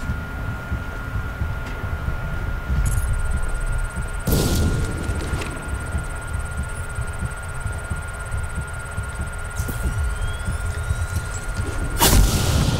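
Grenade explosions go off in the video game Ghost Recon, heard as a couple of sharp blasts over a steady background hum and game ambience, loud and close, with no talk.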